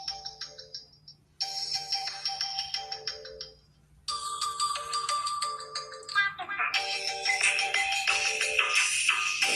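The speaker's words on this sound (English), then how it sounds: "I know that's my ringtone." A phone ringtone plays during a sports talk show, a looping electronic melody that rises gradually in loudness, with faint talk underneath.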